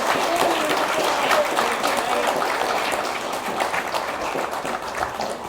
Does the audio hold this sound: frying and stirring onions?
no